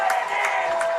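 Football crowd in Burlington, Vermont roaring after a Vermont Green FC goal, green smoke in the stands; a dense, steady wash of cheering with a few louder swells, brief and close.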